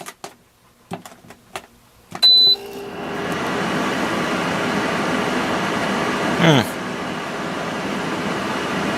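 A Danby dehumidifier switched to continuous duty starts up after a few clicks and beeps, then its compressor settles into a steady, fairly loud hum and whir that runs on without a break.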